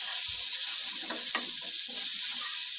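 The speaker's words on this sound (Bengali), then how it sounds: "আমি মশলাটাকে খুব ভালো করে ভেজে নিচ্ছি" Spice paste of ground chilli, cumin, coriander and ginger-garlic frying in a little oil, a constant close sizzle broken by a few soft stirring scrapes, with no voices.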